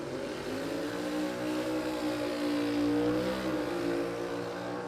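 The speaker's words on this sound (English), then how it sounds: "That's a real confident skid there." A drag racing car skids and revs on an Australian dragway during a drag-and-drive event, heard as a sustained engine roar that swells and holds at a distance, with no talking.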